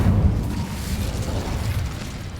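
Incendio fire spell cast in Hogwarts Legacy: a loud, rumbling fiery burst that swells at once and roars steadily with a heavy low-end whoosh for about two seconds, with no talk over it.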